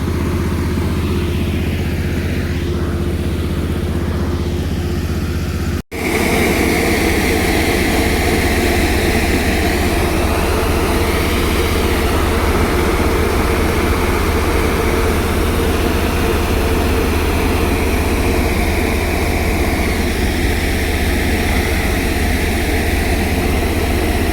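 A tractor engine runs in a field, a loud steady drone that holds for the whole stretch apart from a momentary break near the start, with no talking.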